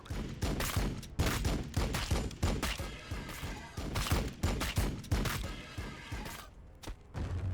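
Land speeder gunfire in the Warhammer 40k Battlesector strategy game: a dense battle fusillade of repeated loud gunshots and heavy thuds, firing in rapid irregular bursts throughout, close and forceful with no pauses.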